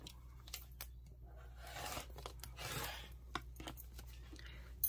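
Fabric is cut along a ruler while making a tabletop ironing pad: a series of quiet, crisp snips and scraping cuts come in short bursts, close by and with no talking.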